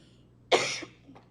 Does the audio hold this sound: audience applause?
no